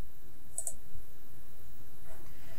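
A computer mouse clicks the Create button: a quick, close double click standing out against a quiet room hum.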